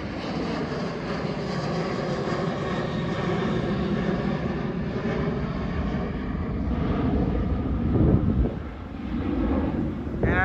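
A Southwest Airlines Boeing 737-800 with scimitar winglets takes off, giving a loud, continuous jet engine roar that swells slightly toward the end, with some wind noise on the microphone.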